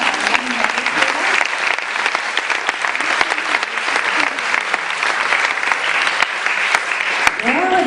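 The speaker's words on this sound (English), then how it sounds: "can we have a big round of applause?" Loud, close audience applause during a spiritual question-and-answer gathering, rapid dense clapping sustained for nearly eight seconds, with a voice beginning to talk near the end.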